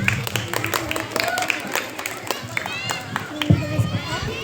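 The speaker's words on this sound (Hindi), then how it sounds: "ज़ोरदार तालियों के साथ आप इनका स्वागत" A school audience gives brief applause and cheers for a fifth-standard student about to deliver an Urdu speech, the scattered claps mixed with children's chatter and crowd noise.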